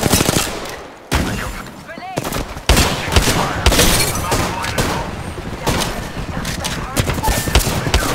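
Rapid automatic gunfire from the video game Apex Legends, with loud, dense bursts that run almost continuously as close firefights mix with impacts. A player talks over parts of the shooting.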